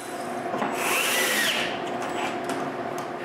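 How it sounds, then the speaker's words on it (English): A power drill bores holes through plywood fixed to a wooden frame on a homemade wooden bandsaw, a steady whirring bite that rises loudest in the middle and continues alone without talk. "I also drill more holes to screw the plywood back to the frame."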